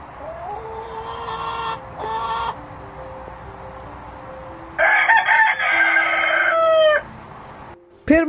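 A rooster crows loudly and repeatedly, with hens clucking and squawking close by in bursts throughout.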